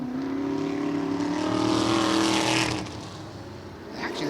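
Race cars roar around a track, one loud engine drone with sustained harmonics swelling and easing as the cars pass close by, with no talk over it.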